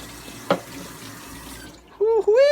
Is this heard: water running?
yes